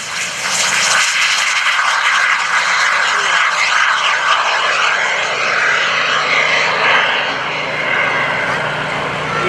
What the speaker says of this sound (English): That little tiny roar is courtesy of the PBS TJ100 turbojet engine.